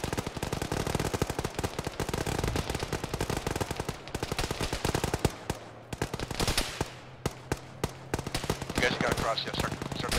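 Dense, sustained automatic gunfire and rapid shots in an Arma military game, loud and continuous with brief gaps and sharp isolated bursts toward the end, with faint radio voices underneath.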